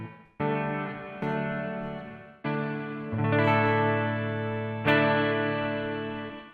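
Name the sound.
Donner REVECHO pedal reverb on guitar, decay at 12 o'clock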